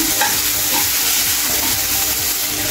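Tomatoes stir and cook in a pan for dhaba-style lasuni methi, giving a steady close sizzle and frying hiss with light scraping of the spoon all the way through, and no voices.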